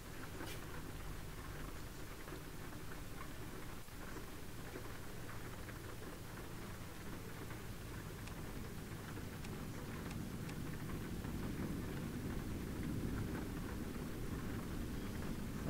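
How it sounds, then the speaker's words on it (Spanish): Steady rain falls continuously in the truck-driving video game American Truck Simulator, a dense hiss of patter with faint low rumbles underneath, no voices. "Hombre, y ahora está lloviendo."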